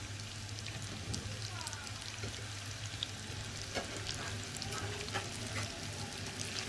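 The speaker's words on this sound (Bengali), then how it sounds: "একটু সাজনা আর আলুগুলোকে মশলার সাথে একটু ভালো করে কষিয়ে নিব" Drumsticks and potatoes frying with spices in a pan for a Bangladeshi-style drumstick curry, giving a steady soft sizzle and crackle with occasional stirring scrapes, fairly quiet and continuous, with no talking.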